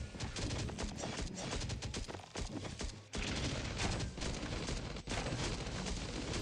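Rapid bursts of gunfire in the survival shooter game Last Day on Earth: Survival, dense and continuous with a short break midway, loud and close with no talk.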